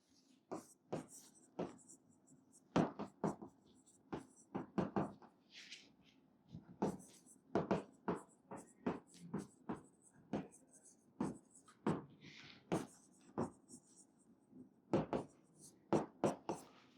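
Pen strokes on paper during an accountancy lesson on bills of exchange come as many short, distinct scratches in uneven bursts, close and clear, with faint background noise between them.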